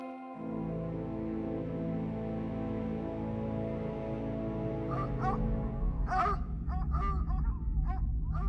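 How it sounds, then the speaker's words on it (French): Dogs whimper and moan in a long, drawn-out whine, then break into several sharp, close barks and yips. "Les chiens menacent de se jeter sur lui, mais Eumée les fait taire d'un seul geste."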